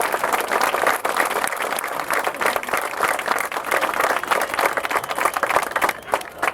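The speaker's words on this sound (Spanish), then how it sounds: "Un aplauso para María, que la tenemos aquí sentada a la sombra." Outdoor crowd applause at the Fiesta del Asturcón honoring a 94-year-old woman seated in the shade, dense steady clapping from many hands that holds at an even level throughout, with a faint voice or two underneath.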